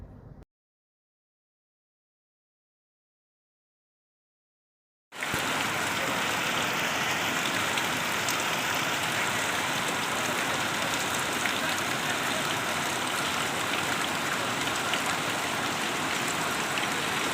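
Heavy monsoon rain pours down in Palitana, a loud, steady, broadband roar of water that begins abruptly after about five seconds of silence and continues unbroken.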